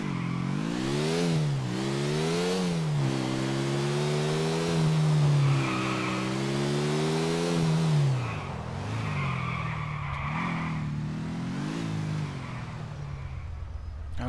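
Car engine from the video game GTA 4 driving, with a revving motor that rises and falls in pitch and tire skids, loud and steady throughout with no talk.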